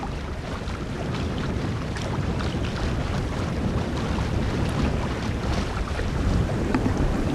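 A small sailboat moves briskly through the sea on trials, with constant rushing wind buffeting the microphone and water noise along the hull, a steady, loud wash of sound with no voices.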